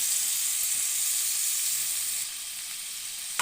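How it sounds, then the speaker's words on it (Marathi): Ground masala paste frying in a pan for a village-style chilapi (tilapia) fish curry, a steady close sizzle and hiss that continues throughout and softens slightly near the end, with no talking. "अर्धा मसाला बाकी आहे ह्याला फ्राय करायचं"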